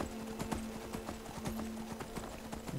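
A horse trots in the Skyrim video game, with quick, steady clip-clop hoofbeats close by and a faint steady hum underneath.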